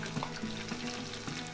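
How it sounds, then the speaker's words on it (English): Tomatoes for marinara sizzle and crackle in hot oil, a dense frying hiss with scattered louder pops, close up and continuous. "Feel the sizzling."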